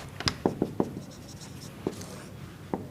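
A pen writes an equation on paper, producing soft, quick scratching strokes in short clustered bursts with brief pauses, close and quiet.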